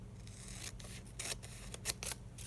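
Scissors snip around wax paper for a craft embellishment in a series of crisp, close cuts arriving in uneven bursts, faint overall with no speech.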